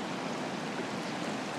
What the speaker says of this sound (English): the river is coming over the banks onto the pathway